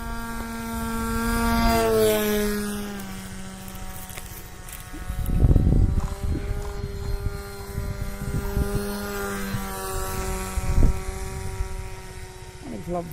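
An FT Spear FPV RC plane flying at 50% throttle gives a steady buzzing propeller whine that shifts in pitch as it passes, heard outdoors under a man's speech with occasional wind bursts.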